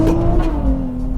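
Tuned 480 wheel-horsepower 2024 Nissan Z Nismo engine revving on a downshift near an underpass: a brief, loud, close engine blip with a falling pitch.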